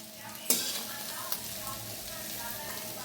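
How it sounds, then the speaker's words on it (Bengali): Jackfruit frying with salt in a pan, a faint steady sizzle with a couple of sharp stirring clicks and scrapes against the pan. "হ্যাঁ, কাঁঠাল ফ্রাই করছি নুন দিয়ে"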